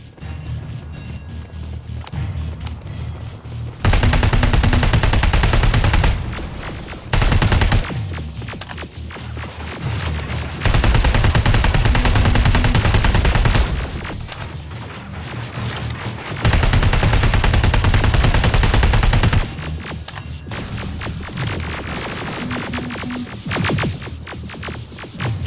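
Gunfire from a weapon in the video game Terminator: Resistance, loud bursts of rapid shots in several long sustained volleys with short pauses between, over a steady background of game noise.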